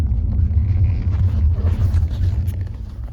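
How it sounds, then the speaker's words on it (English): A 2011 Audi S6 5.2 V10 engine runs with its throttle stuck wide open: a loud, steady, deep droning roar that holds without pause. "The freaking throttle's stuck wide open."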